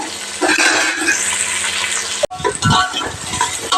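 Vegetables sauté in hot oil with a crackling sizzle and stirring clatter, briefly broken by a sharp knock before the frying resumes, louder and busier.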